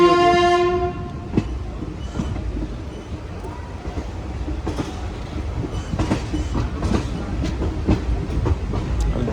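The 12237 Begampura Express passenger train, Varanasi to Jammu Tawi, sounds a brief horn blast, then rolls by with steady rumbling and rhythmic clickety-clack of wheels over rail joints, loud and near.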